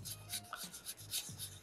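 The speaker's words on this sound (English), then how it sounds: "we're sanding, with sandpaper 2 and smoothing out that surface" Fine sandpaper rubs over a carved soapstone fish in quick, soft back-and-forth rasping strokes, close and quiet, with no talking.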